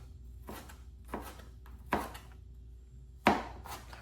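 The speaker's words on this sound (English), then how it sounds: "then we just dicing up the tomatoes" A knife dices tomatoes on a wooden cutting board, four separate chopping thuds at irregular intervals, close and fairly quiet, with the last cut the sharpest.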